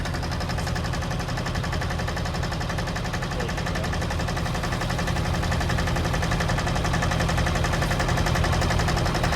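A high-flow pumper driven by a Baron engine runs at a steady, even drone with constant rattling pulses, loud and close throughout.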